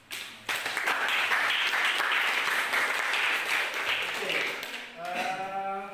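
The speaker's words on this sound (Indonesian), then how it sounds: "tepuk tangan." A group claps at a classroom coaching session, a dense burst that starts abruptly, holds steady, then fades as a voice begins near the end.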